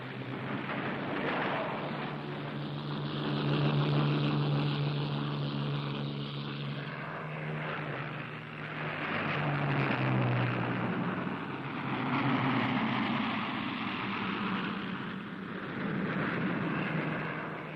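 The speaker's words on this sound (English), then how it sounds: "From the least damaged airfields, a few survivors of the Luftwaffe are taking off for a last mission" Propeller engines of WWII Luftwaffe aircraft drone steadily as planes take off from a damaged airfield, the throbbing roar swelling and fading in waves without talk.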